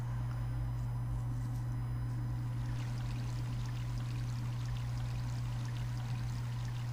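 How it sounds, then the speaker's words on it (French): Water flowing near the shore in an Arcanes video game, a steady broadband stream-like wash with a constant low hum underneath, moderately quiet and continuous with no talk. "déjà nous on est arrivé près de l'eau"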